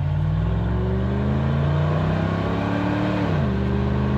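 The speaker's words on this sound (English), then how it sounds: "Let's see it go through all the gears here." A 1997 Jeep Cherokee pulls off-road, its engine note climbing steadily, then dropping sharply at a gear change near the end before rising again in the next gear, a continuous loud rumble close by with no talk.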